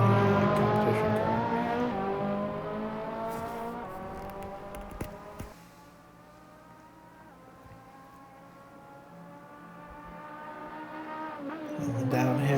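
A Ferrari in the Assetto Corsa racing game roars at high revs. It eases off into a lower drone through a corner, with faint tyre noise, and then climbs again toward the end.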